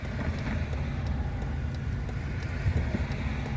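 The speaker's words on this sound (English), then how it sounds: "Whole line of traffic here." Road traffic on the way to the Maine coast, a steady low rumble of cars with faint ticking clicks on top, moderately loud and continuous, no talking.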